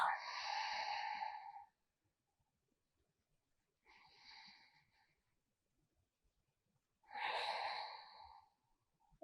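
Slow exhale breathing during a yoga routine on the floor, heard as three long, soft breaths with quiet gaps between them, the middle one fainter.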